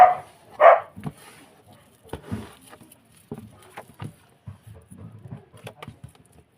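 A pet dog gives two loud, sharp barks close by at the start, followed by quieter scattered thuds and indoor rustling.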